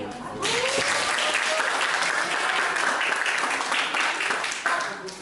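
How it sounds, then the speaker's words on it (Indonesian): A classroom of students applauds a classmate named Belki in a teaching practice lesson, a steady dense wash of clapping that rises quickly and holds loud throughout before tapering off at the end. "tepuk tangan untuk Belki"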